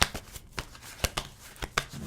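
A tarot card deck is shuffled by hand, close-up riffling bursts and sharp flicks in an uneven rhythm.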